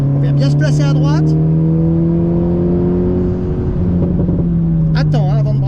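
Car accelerating on a driving course, a loud steady engine drone that holds and rises slightly, heard from inside the car with a person talking over it at the start and end.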